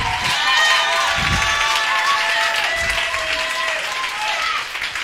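A church congregation applauds and cheers in acclaim of Jesus during a lively worship service, with steady clapping and crowd noise continuing throughout at close range.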